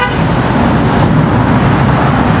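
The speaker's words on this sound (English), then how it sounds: "Don't know why that guy just honked at me" Steady loud street traffic with a car horn honking nearby, broadband road noise throughout and no talking.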